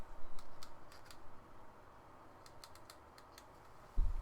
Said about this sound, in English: And now if I start typing with this,